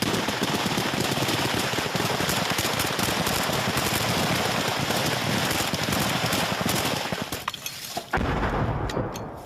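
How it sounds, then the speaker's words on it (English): Sustained, unrelenting gunfire from a gun battle in Ukraine as soldiers hold off advancing Russian forces, dense rapid automatic bursts filling the whole stretch before a sudden drop near the end. "Here they engage in a gun battle to hold off advancing Russian forces."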